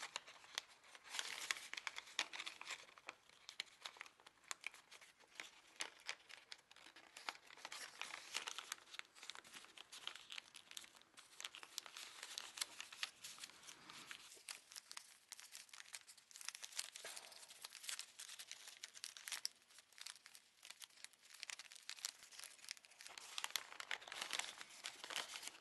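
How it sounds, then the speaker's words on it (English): Paper flaps of an Easter bunny pop-up card are folded and creased by hand, close and quiet, with repeated crinkling and soft rustling over about half a minute, no voices. "And fold this flap behind."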